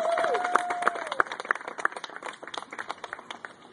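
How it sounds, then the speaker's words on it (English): Outdoor applause from a small crowd at a school greenhouse ceremony, with crisp individual claps that thin out and taper off, and a brief tone or voice at the start. "So, round of applause."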